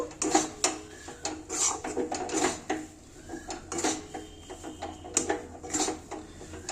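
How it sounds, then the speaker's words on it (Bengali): Spoon stirring pea kachori filling with fried spice mix in a pan, repeated scraping and clinking of metal against the pan in an irregular rhythm, close and fairly loud. "এবারে ভাজা মশলাটা দিয়ে দিলাম দিয়ে আর একটু নাড়িয়ে নেব"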